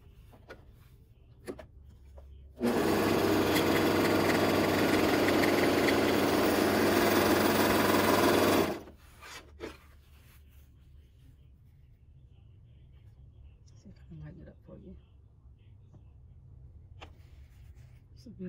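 A Bernette 64 airlock serger sews two fabric pieces together with a smaller stitch, giving a loud, steady mechanical whir for about six seconds that starts and stops abruptly, with quiet handling noises before and after.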